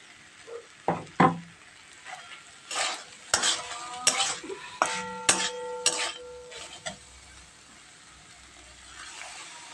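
Poppy seed paste with green chillies being stirred into reddish-fried potatoes in a pan, spatula scraping and clinking against the metal in repeated bursts, with a faint sizzle underneath and no talking.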